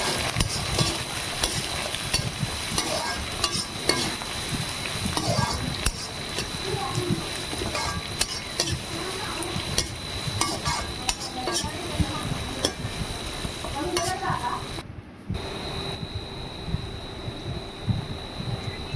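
Onions sizzle and fry in a pan of hot oil for biryani, with steady crackling, scraping stirs and clinks of a utensil against the pot, while a voice talks over it; a brief pause near the end.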